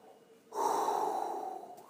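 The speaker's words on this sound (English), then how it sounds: "If you take a slow, soft breath" A single slow, soft breath drawn in close to the microphone by a trumpet player, a gentle airy inhale lasting over a second that tapers off at the end.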